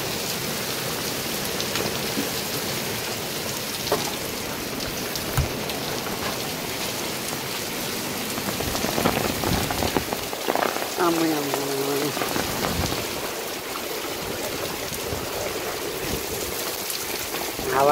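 Torrential rain driven by wind in Korea, a constant heavy hiss of drops on surfaces with swelling gusts midway and faint voices or tonal sounds briefly heard under the roar.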